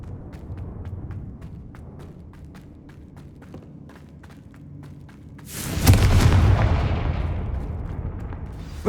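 A spell explosion in Hogwarts Legacy, a sudden loud blast with a long rumbling decay, preceded by a run of light rhythmic footsteps.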